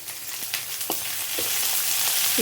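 Onions fry in oil for Telangana-style tempered rice, a soft, steady sizzle that grows slightly louder, with a few light stirring scrapes, close up and without voices.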